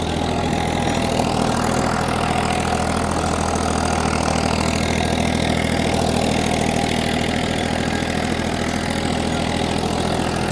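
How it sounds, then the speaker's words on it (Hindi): A tractor engine runs steadily at idle close by, a continuous low mechanical rumble with a loud, even drone that holds throughout, with no talking over it. "आप ट्रैक्टर रोकिएगा, बंद कर दीजिए गाड़ी को"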